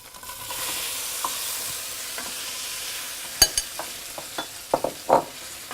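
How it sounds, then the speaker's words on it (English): Tomatoes go into a sizzling pan of hot oil for spaghetti alla puttanesca, and a steady frying hiss runs throughout, with a few sharp clacks and scrapes of stirring near the end. "Now we're going to add our tomatoes."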